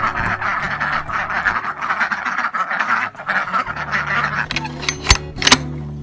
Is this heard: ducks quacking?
yes